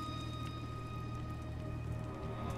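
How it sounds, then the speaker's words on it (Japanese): Steady rain pattering on surfaces in God of War, a dense continuous hiss of drops with no voices over it. "雨。"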